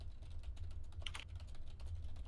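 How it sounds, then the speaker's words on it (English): Computer keyboard typing, a quiet run of close key clicks with a brief louder burst in the middle, over a steady low hum. "I hear typing."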